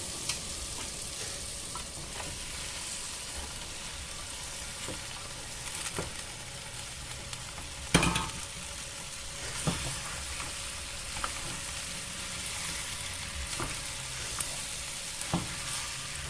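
Taro leaves frying and being stirred in a pan with dried fish, a steady close sizzle running throughout with a few sharp clicks and scrapes of the spoon at intervals.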